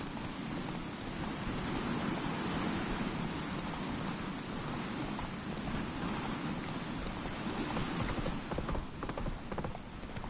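Horse galloping in a video game, its dense, steady clip-clop of hooves running loud and continuous throughout, mixed with rain-like noise.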